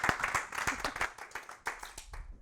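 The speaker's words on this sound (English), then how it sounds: "Give her a round of applause." An audience at a product training session claps in a brief, lively round of applause with dense overlapping handclaps that taper off after a couple of seconds.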